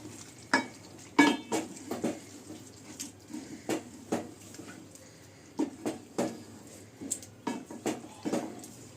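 Biryani gravy being stirred after whole green chillies, chopped coriander and mint go in, with a run of close, soft scraping and splashing strokes at an uneven rhythm and no talking.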